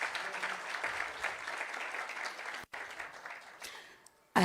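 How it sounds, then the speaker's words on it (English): Audience applause fills the hall at the Temvelo Awards 2025 ceremony, a steady wash of many hands clapping that breaks off sharply once near the end before resuming. "Give yourselves a warm round of applause."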